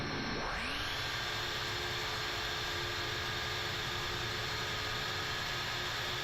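MD-80 jet engines spooling up outside the aircraft in Microsoft Flight Simulator, a whine that climbs quickly in the first second and then settles into a steady, even jet roar with a high tone held on top.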